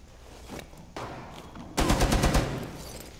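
Gunshots in Rainbow Six Siege on the Bank map: a few scattered shots early, then a dense, loud volley of rapid fire that fades out toward the end.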